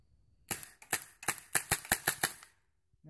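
A Tippmann M4 Carbine airsoft gun fitted with a G&G 450-round high-cap magazine fires about eight sharp semi-auto shots in quick, slightly uneven succession. The cracks are close and crisp, followed by quiet.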